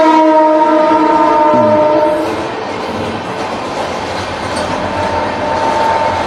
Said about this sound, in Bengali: সরি ট্রেনটা যাক